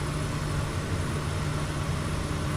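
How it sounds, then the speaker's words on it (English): Cabin noise inside a plane in Microsoft Flight Simulator, on a flight from Hengchun to Laoag: a steady, loud, broadband drone with a constant low hum that continues without a break and without speech. "I haven't even got my fan on and it's noisy in this plane"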